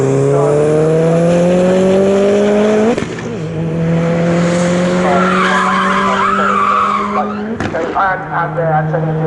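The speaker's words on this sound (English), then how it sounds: "And Antonio Giovinazza spins on just about that stretch" A race car at a time attack club warm-up spins on track, its tyres skidding and squealing loudly as the engine revs and drops, with commentary talking over it.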